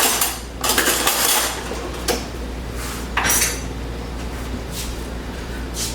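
Cooked rice being served into bowls, close, loud clatter and scraping of a utensil against dishes, with a few sharper clinks over a continuous kitchen background and no talking.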